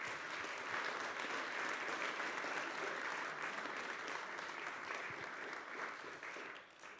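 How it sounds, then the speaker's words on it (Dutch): A hall audience at a local Dutch election debate in Damwâld applauds a BBB party candidate, with dense, sustained clapping that holds steady and then fades near the end. "Jou een applaus van de BBB"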